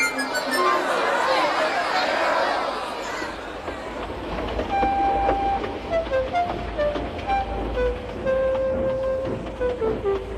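Steam engine Gordon pulling away from a station platform, a train rumbling and clattering with a tooting whistle-like tone, heard under a loud crowd of chattering voices.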